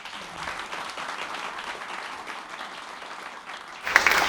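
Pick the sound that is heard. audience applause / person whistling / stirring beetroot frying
audience applause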